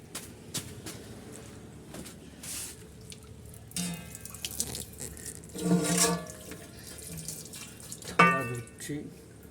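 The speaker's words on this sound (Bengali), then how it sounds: "থালা ধুচ্ছি।" Tap water runs steadily into a kitchen sink while dishes are washed, a continuous close splashing hiss with louder surges and clinks, and a voice speaks at times.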